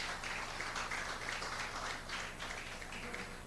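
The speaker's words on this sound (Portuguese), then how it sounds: "salva de palmas para os nossos convidados" Faint, thin applause from a small group greets guests at a wine and food gathering; a soft, steady patter of clapping holds for a few seconds at low volume.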